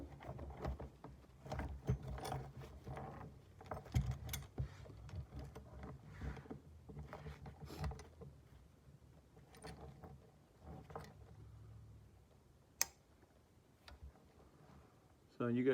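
Handmade steel trap being set by hand, irregular close metallic clicks, scrapes and knocks with a sharp snap near the end, under intermittent talking.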